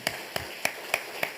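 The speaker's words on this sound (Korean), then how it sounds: "이 시간에 청년들 위해서 한번 박수로 격려하겠습니다." Five sharp, evenly spaced hand claps ring out in a church during a Sunday daytime service, steady and rhythmic like a congregation clapping together, with no voices over them.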